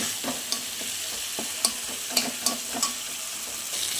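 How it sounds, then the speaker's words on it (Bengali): Ground spices with salt and turmeric stir-fried in a pan: a steady, close sizzle broken by repeated sharp spatula scrapes and taps at an irregular rhythm, with no talking. "দেখো আমি এবার ভালো করে কষিয়ে নেব।"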